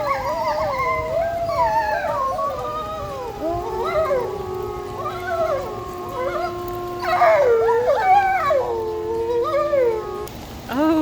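Several wolves at the Calgary Zoo howl together in long, overlapping, rising and falling tones, a chorus of voices layered over one another at moderate distance with light rain-like background noise.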